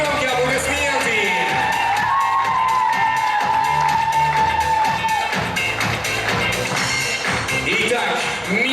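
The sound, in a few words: loud applause and cheering at an award ceremony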